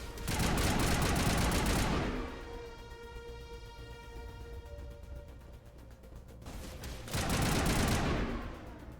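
Gunfire in the video game Mass Effect comes as two loud bursts of rapid automatic shots, one at the start and one near the end, with a ringing hum between them.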